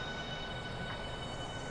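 A Merseyrail electric train runs in Train Simulator 2014, a steady, faint rolling hum with a soft whine and no other sounds, heard briefly.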